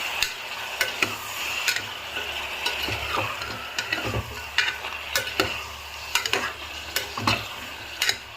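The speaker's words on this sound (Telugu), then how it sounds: "ఇది ఒక 5 మినిట్స్ వేగాలండి బాగా" Mutton curry with added fat fries in a pan while being stirred, giving a steady close sizzle broken by regular sharp spoon scrapes and clinks against the pan, with no talking.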